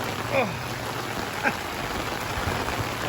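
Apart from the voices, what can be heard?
rain falling in Chiang Mai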